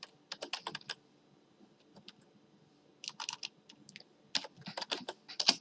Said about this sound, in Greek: Πάμε στο Google και γράφω και κάνω επικόλυση το μοντέλο.